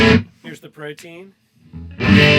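Les Paul electric guitar played through a Browne Protein dual drive pedal, loud overdriven strummed chords at the start and end with lighter picked notes ringing between them.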